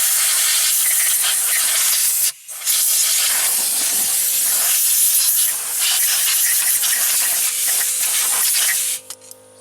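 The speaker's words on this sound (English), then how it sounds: "Even brought my favorite blow nozzle." A compressed-air blow nozzle cleans out the A/C area of a Nissan engine bay, a loud continuous hiss of escaping air with one brief pause partway through and a sharper burst near the end.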